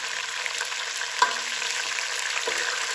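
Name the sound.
chicken frying in a pan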